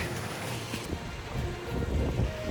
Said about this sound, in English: It's so nice to hear the water lapping up against the shore.